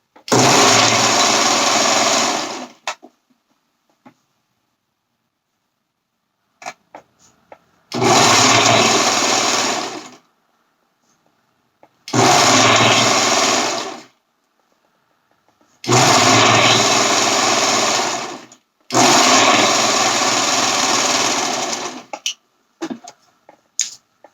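A home sewing machine stitches along the curved edge of a fabric romper's crossback, running in five loud, steady bursts of whirring motor and needle, each lasting about two to three seconds, with short quiet pauses between them.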